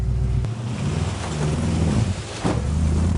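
A V8 ute's carburetted engine roars loudly up close, revving hard with a low rumbling drone that dips and falters near the end as it loses power, with no one talking.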